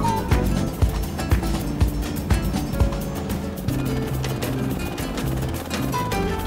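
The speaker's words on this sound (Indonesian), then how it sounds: "Seperti inilah proses penggilingan kayu aren dengan bantuan mesin diesel." A diesel engine drives a machine grinding aren palm wood, a loud steady mechanical drone with rhythmic thumps and clatter throughout, no speech.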